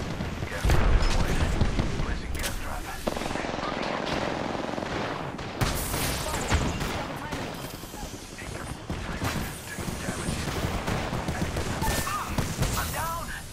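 Rapid gunfire crackles in a shooter video game, with a grenade blast bursting through the barrage; bursts of automatic fire repeat densely over the whole stretch while voices call out in the middle of the action.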